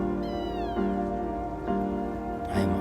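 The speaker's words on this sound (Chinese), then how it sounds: "我听着什么东西叫呢？ 这不是小猫吗？" A newborn kitten, abandoned in mud, gives a thin, high meow close by, then two more cries over a constant background hum.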